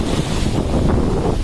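Ocean surf breaking and washing up on Karon Beach in Phuket, Thailand, a steady loud rush of waves with wind buffeting the microphone, no talking.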